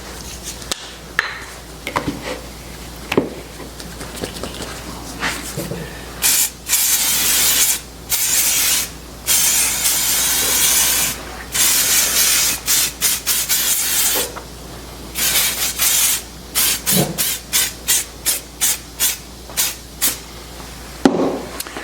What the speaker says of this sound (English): And I'll coat it with mold release.